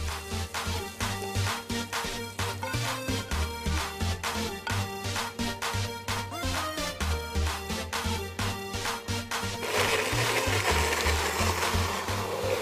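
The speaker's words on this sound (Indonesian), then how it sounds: "Kita akan blend sekarang." A kitchen blender grinds a turmeric spice paste for soto daging, a loud, close motor whir with rhythmic pulsing churn that turns into a smoother, steadier roar near the end, with no talking.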